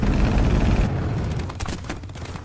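Loud burst of gunfire and explosive booms in a movie battle scene, a dense rumbling volley that drops off after about a second, followed by scattered sharper shots.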